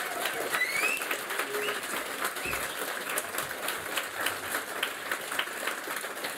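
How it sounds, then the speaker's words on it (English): Distant, faint applause from a seated audience at an evening writers' awards showcase in a large hall, a steady patter of many hands lasting several seconds. "I think we need another round of applause for all of you"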